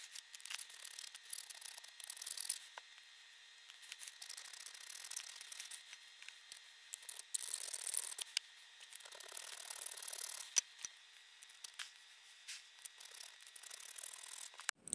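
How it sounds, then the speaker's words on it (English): Metal file rasping along the inside edges of three freshly cut holes in metal for a hidden blade build, a steady run of faint scraping strokes with small clicks and rattles and no talk. "we're going to go ahead and file down the inside to make sure that these are all taken off"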